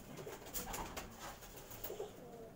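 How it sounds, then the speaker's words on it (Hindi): Pigeons of a prized breeder flock coo softly on a rooftop loft, low murmuring calls recurring through the clip amid steady background noise. "ये ज़हीर भाई कबूतर हैं।"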